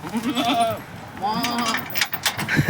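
Goats at a livestock market let out two wavering, nasal bleats close by, one after the other, while people talk and bargain around them.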